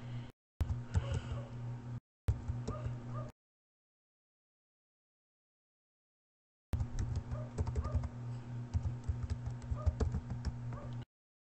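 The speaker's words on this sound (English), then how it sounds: "I'm just typing something out right now." Rapid clicking keystrokes on a computer keyboard during a live stream come in several bursts separated by stretches of silence, with a steady hum underneath.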